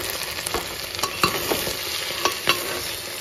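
Mutton stirred and fried with salt and turmeric in a pan, with steady close sizzling broken by several sharp scraping stirs of a spoon against the pan.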